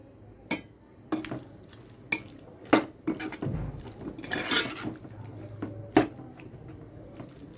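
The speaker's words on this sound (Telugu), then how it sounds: "ఇప్పుడు మనము కొంచెం వాటర్ వేసేద్దాము." Water poured into a pan of broad bean, potato and fenugreek leaf curry gives a brief rushing splash amid scattered spoon clinks and stirring scrapes, close by with no talk.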